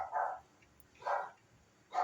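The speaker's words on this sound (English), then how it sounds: "And that's my dog barking." A dog barks three times at a moderate distance, spaced roughly a second apart, each bark a short muffled woof over faint room hum.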